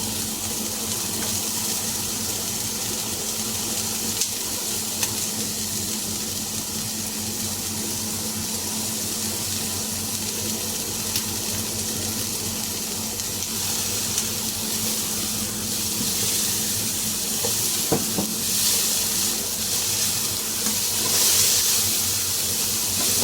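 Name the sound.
onion and garlic sizzling in hot pan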